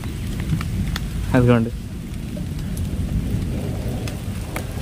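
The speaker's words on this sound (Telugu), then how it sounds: "ఇంకా ఉరుంతుంది పైన." A heavy thunderstorm downpour drums loudly and steadily over a low rumbling undertone, and a voice briefly speaks partway through.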